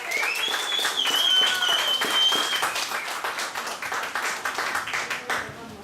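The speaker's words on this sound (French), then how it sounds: "on va l'applaudir encore une autre fois" An audience at a poetry evening applauds a performer, a warm burst of clapping with a voice talking over it, the claps becoming sparser and more distinct toward the end.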